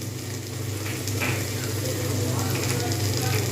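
Chopped cabbage frying with turmeric in a pan, a steady loud sizzle with scraping and stirring sounds running throughout and a low constant hum underneath.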